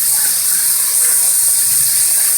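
Squid stir-fried in a very hot oiled pan, a loud, steady sizzling hiss up close, continuous throughout, with a voice faintly under it.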